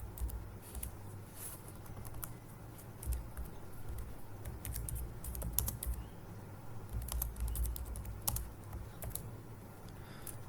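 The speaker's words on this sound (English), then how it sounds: "In this file also I will write some code." Keys clatter steadily on a computer keyboard as code is typed into an HTML file, quick irregular taps close by over a low hum, with no one speaking.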